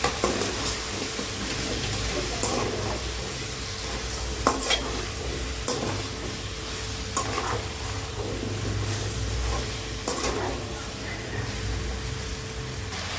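Mixed vegetables with raw mango sautéing in a pan for a Sunday vegetable curry, a constant loud sizzle under repeated scraping and stirring strokes of a spatula, close up and with no talking.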